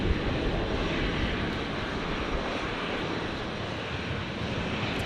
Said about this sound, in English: let's see if I can catch this Jetstar that's rolling down at 19 left